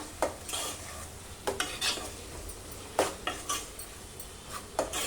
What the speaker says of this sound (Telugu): ఒక 2 minutes అయితే ఫ్రై చేసుకోవాలి, అల్లం వెల్లుల్లి పేస్ట్ స్మెల్ పోయేదాకా